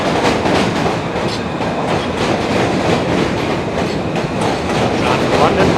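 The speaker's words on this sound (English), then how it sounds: "M train, not too crowded." A New York subway M train rattles along at speed with a constant loud rumble and rhythmic clatter from the wheels and cars, heard from inside the carriage.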